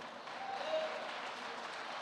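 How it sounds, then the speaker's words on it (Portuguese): A church congregation claps together for Jesus, a steady faint wash of many hands that holds evenly for the whole stretch without breaks. "Aplauda dando glória a Jesus, porque nós aplaudimos Jesus"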